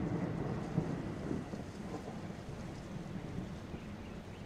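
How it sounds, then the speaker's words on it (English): A distant thunderstorm rumbles low and continuous, a soft, dull roll of thunder with faint wind and rain-like hiss, heard alone. "in the distance you can hear a storm approaching"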